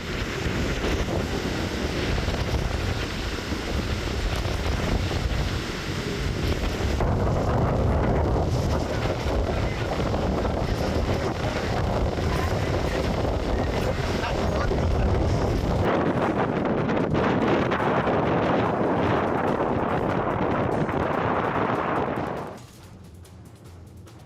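Strong wind batters the microphone in Valsad as a storm approaches, a dense, roaring rush that rumbles steadily for about twenty-two seconds before suddenly dropping to near silence.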